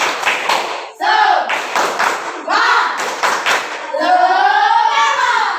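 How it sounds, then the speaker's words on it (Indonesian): Classroom group doing a rhythmic Indonesian spirit clap, sharp bursts of clapping under loud chanted voices, with children's voices calling out near the end. "Tepuk semangat."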